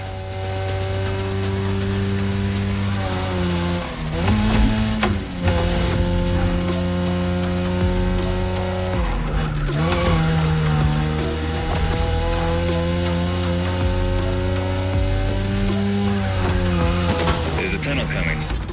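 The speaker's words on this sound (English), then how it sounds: "Your ride is a 3rd Gen 2002 Mazda RX-7. Lightweight, compact, a sick rotary engine, and one hell of a look." A 2002 third-generation Mazda RX-7 with a rotary engine racing in the game The Crew, its engine holding a loud sustained drone with sharp rev shifts around gear changes, under intermittent talk.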